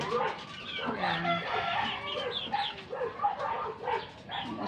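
Bulik roosters and chickens call close by, a busy run of overlapping clucks and short crowing cries that carries on without a break.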